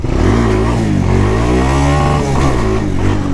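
A four-wheeler engine revs hard and holds against its rev limiter, a loud, close, continuous buzzing drone whose pitch wavers and stutters as the limiter cuts in, with no talk.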